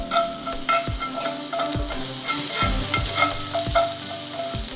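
Butter, masala and red chilli sauce sizzling in a pan for a street-style pav sandwich, a steady close crackle broken by repeated scraping and tapping of a spoon as it is stirred.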